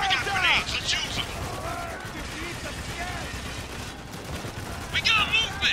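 Bursts of gunfire in the military shooter Spec Ops: The Line, a loud sustained rattle of shots with voices shouting over the battle at the start and again near the end.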